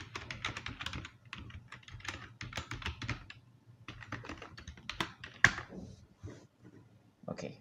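Rapid, uneven keystrokes on a computer keyboard as a password is entered, clattering close up in irregular bursts for several seconds with a couple of brief pauses.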